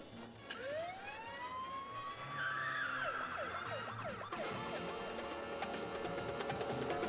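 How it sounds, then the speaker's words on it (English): A wailing siren sweeps up and down, rising in pitch then switching to a faster warble, heard from a moderate distance over traffic rumble. "Surely we don't need the sirens."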